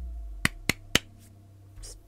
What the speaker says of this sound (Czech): fakt jsem si toto zatleskal